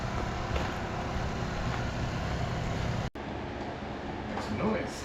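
Steady roar of traffic and construction equipment on a main highway where water lines are being replaced, a constant broadband rumble with a brief dropout partway through and a voice speaking over it.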